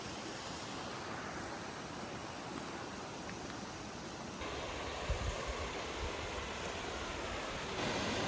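A waterfall in the Montana backcountry gives a steady, even rush of white noise at a moderate distance, faint and continuous with light wind buffeting and no talk.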